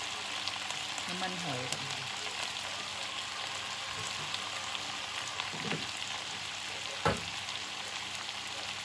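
Mixed vegetables with crispy pork stir-fry in a pan, a steady soft sizzle with occasional scraping stirs and a clack, while someone speaks briefly over it.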